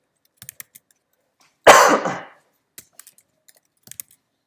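Sparse, quiet keystrokes on a computer keyboard come in short bursts of clicks, broken midway by a louder throat-clearing cough.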